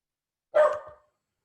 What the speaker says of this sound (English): I'm dealing with a barking dog right now.